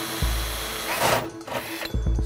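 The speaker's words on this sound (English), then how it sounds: "So what I'm going to do is actually drill a hole." A power drill boring a hole through a metal PC chassis panel, a steady loud whir lasting about two seconds with a brief dip near the end, heard alone.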